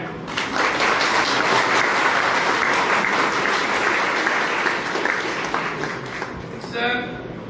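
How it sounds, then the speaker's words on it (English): An audience claps to welcome dignitaries at a formal event, a loud, sustained wash of applause from a crowd that stays steady throughout and fades out at the very end. "Kindly welcome these highly qualified, highly dignified dignitaries with big applause of hand"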